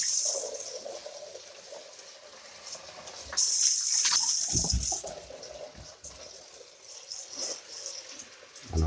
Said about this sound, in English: we'll just rinse this out now